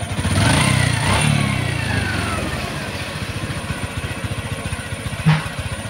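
A Honda XRM 125 Fi motorcycle engine with a knocking fault idles nearby with a steady, rapid putter, briefly louder at the start, a short rev blip near the end.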